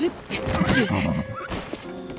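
A horse in Zelda Tears of the Kingdom gives a loud, quavering whinny that rises and falls, mixed with game sounds and heard under a person talking.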